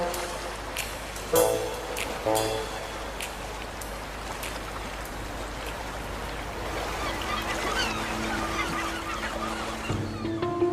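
Young gulls on a shore call repeatedly for food, giving harsh honking squawks in bursts over a constant wash of surf or rain-like noise, loudest early and spaced irregularly.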